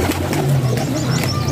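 Pigeons coo in low, repeated throaty murmurs close by, with faint chirps and background bustle around them.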